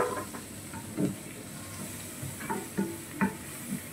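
Garlic frying in butter in a pan for mushroom adobo, a soft steady sizzle with several short stirring scrapes and clinks spread through, close up and without talking.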